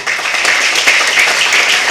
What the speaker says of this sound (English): Now you can clap, it's for you.